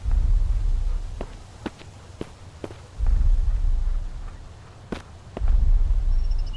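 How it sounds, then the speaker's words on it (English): Footsteps in the survival game Mist Survival land as sparse, sharp thuds spread across a few seconds over a low rumbling background, with no voices. "I'm hearing like footsteps."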